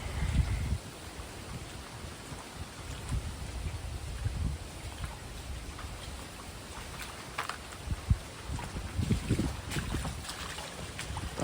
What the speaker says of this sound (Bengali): এখনও বাতাস বইছে জোরে জোরে